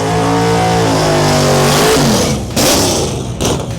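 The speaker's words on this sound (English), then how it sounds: "Burnouts happen, lights come down" An EF Civic drag race car at a Main Event 2025 drag racing meet revs hard and launches with a loud, close engine scream that rises in pitch, then cuts and bursts again.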